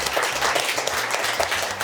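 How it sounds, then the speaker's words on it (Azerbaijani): A studio audience applauding a guest steadily on a comedy talk show, dense overlapping claps forming a continuous wash of sound throughout. "Bir alqışlar gəlsin Eyüp müəllimə."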